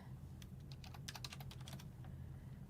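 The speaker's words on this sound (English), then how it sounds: "If you hear me typing, it's like ASMR." Faint typing on a computer keyboard at a live news desk: a quick, uneven burst of light key clicks over a low room hum, with no talking.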